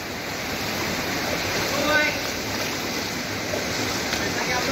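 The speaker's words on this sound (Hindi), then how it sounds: "बहुत ही स्पीड में पानी जाता है।" Water gushing at high pressure from a pipe outlet at the Barvi fountain near Badlapur, a broad continuous roar that stays even and loud throughout, with voices faintly underneath.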